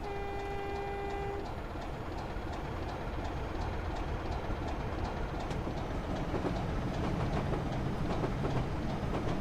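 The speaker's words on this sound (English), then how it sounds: "The approaching train is not scheduled to stop at this station" A British train runs through a station platform without stopping, a horn blast at the start giving way to a steady rushing roar and rhythmic clickety-clack of wheels passing close by.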